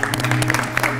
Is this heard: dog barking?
no